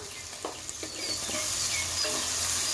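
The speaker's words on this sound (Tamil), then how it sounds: "இதை கொஞ்சம் நம்ம நல்லா வதக்கி எடுத்துக்கலாம்" Onions sautéing with salt in a pan while making spicy mint pulao, a steady close sizzle with a few light scrapes as they are stirred.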